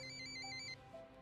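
An incoming call sets off a phone ringtone, a quick, bright, repeating electronic melody that plays briefly and then cuts off, fairly faint against a low background hum.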